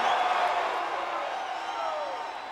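A wrestling arena crowd at a televised Smackdown event cheers and whoops as a wrestler offers cash, a loud, dense roar held steady for a couple of seconds.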